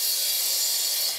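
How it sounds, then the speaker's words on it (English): A chop saw fitted with a diamond tip blade cuts through an interlocking construction brick, giving a steady, loud grinding hiss that holds without a break for the whole moment. "The bricks are cut using a chop saw with a diamond tip blade."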